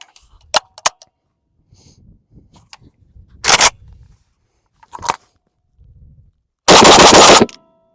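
A PSA AK-101 rifle fires 5.56x45mm rounds outdoors: sharp single shots, a louder shot, then a fast burst near the end, with handling clicks between, close and loud.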